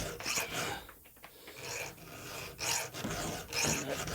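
A round file is drawn by hand across a chainsaw chain tooth, giving repeated close rasping strokes in an uneven rhythm, each a short bright scrape.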